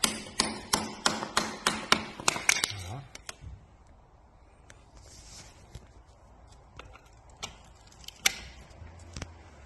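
Wrench work undoing a banjo fitting on a brake pipe at the caliper of an Iveco 75E15 rear axle: a quick run of sharp metallic clicks and taps, then sparse knocks and clanks with quiet gaps.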